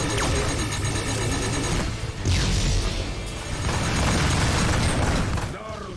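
A ship explodes in the space combat game Rebel Galaxy Outlaw, a loud, sustained roaring blast layered over engine rumble and dense game sound, with a voice talking over it.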